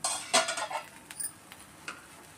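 A plate set down over a paddu pan of crisp vegetable paddu, giving a few close metallic clinks and clatters of dish on pan, then a couple of faint lighter taps.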